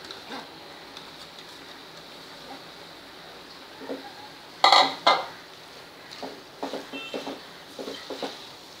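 Chopped fenugreek leaves are stirred in a pot, with soft scraping and a few sharp metallic clanks of a spoon against the rim, quiet at first, then louder knocks and scattered clinks.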